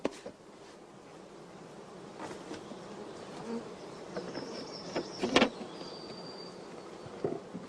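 Honey bees hum continuously as they are hived like a natural swarm, shaken into the underfloor cavity of a multi-storey hive; the buzzing stays fairly soft and even, with a few brief louder bursts and no voices.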